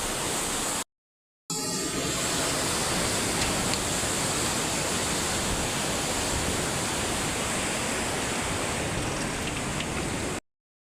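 A river swollen by heavy rain rushes in a loud, steady roar of broadband water noise, close and unbroken apart from a brief cut near the start.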